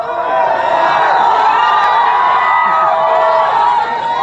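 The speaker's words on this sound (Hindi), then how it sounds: "ये मेरे कुछ दोस्त आए हैं जो मोदी मोदी चिल्ला रहे हैं।" Large crowd at a political road show in Panchmahal, Gujarat, shouting and chanting slogans, a dense, continuous roar of many voices close by with no clear pauses.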